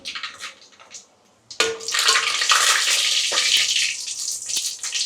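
Mustard seeds, cumin and dried red chillies hit hot oil with a sudden loud sizzle that keeps crackling and spitting steadily, after a quieter moment of faint clinks.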